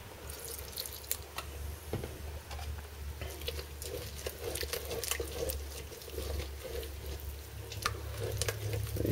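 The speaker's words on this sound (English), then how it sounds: "it's important here that you keep stirring" Thick cheese sauce for Welsh rarebit is stirred in a pan, giving soft wet pattering and scraping clicks over a low hiss, quiet and close, with no voices.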